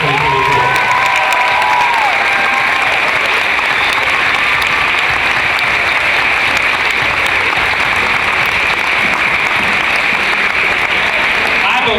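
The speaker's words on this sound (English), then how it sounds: "Ladies and gentlemen, one more round of applause for Hillsboro's class of 2024." Sustained audience applause with scattered cheering and shouts fills a school cafeteria-style event for a graduating elementary/middle school class of 2024 moving up, dense and steady throughout.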